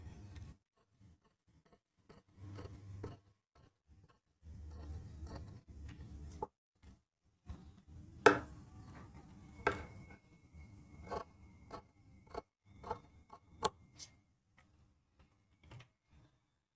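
Scissors snip through shirt collar fabric in a quiet indoor tailoring setting, giving soft, irregular cutting clicks and rustles with short pauses between strokes, close and fairly faint.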